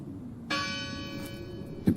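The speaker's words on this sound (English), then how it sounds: "It must be her ringing the bell." A church bell rings once in the game Draugen, its bright metallic tone striking clearly and then sustaining and fading, followed by a brief thump.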